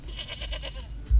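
Goats bleat from a goat shed in the Manor Lords video game, several short wavering calls in quick succession, fairly close, ending with a low thump.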